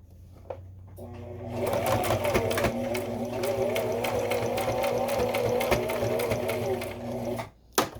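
Close and steady, a sewing machine zigzags back and forth over a raw fabric edge to form a casing, its fast rhythmic mechanical chatter running continuously for several seconds before stopping.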